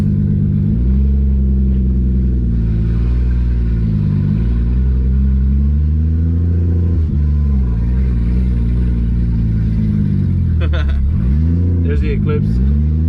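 A Toyota Supra MKIV idles low and steady while backing up in reverse, a continuous rumble with slight pitch shifts and a brief rev. Someone talks over it throughout.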